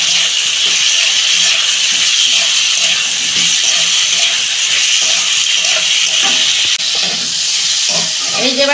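Potatoes and pointed gourd hitting hot spiced oil in a pan for a home-style fish curry, a loud, steady sizzling hiss with faint clinks throughout.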